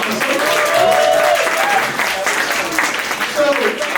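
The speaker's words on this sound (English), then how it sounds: "Yeah, I'll take the applause." A stand-up comedy crowd gives steady, full applause that swells and holds, then begins to thin toward the end, with faint voices mixed in.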